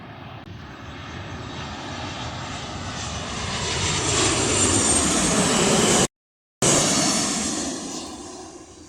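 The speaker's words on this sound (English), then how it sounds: "Basically, Boeing 737s." Airliner jet engines, likely a TUI Boeing 737, roar overhead in a loud, steady rush that swells as the plane passes, with a brief gap in the middle and no voices.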